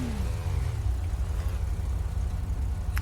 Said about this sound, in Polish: Słyszał pan ten dźwięk? No ten dźwięk silnika